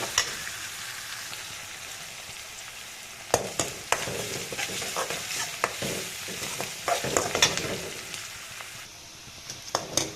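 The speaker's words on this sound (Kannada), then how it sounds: "ಈರುಳ್ಳಿ ಕೆಂಪು ಬಣ್ಣಕ್ಕೆ ತಿರುಗೋವರೆಗೂ ಫ್ರೈ ಮಾಡ್ತಾ ಇರಬೇಕು." Onions frying for beetroot palya crackle softly in a pan while a spoon scrapes and stirs them in irregular bursts, close and fairly quiet, with no speech.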